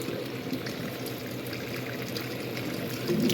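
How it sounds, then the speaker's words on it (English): Water trickling and dripping off the leaves of freshly watered houseplants such as palms and succulents, a soft, continuous patter and dribble heard close by, with no talking. "Dripping on my foot, rolling off leaves."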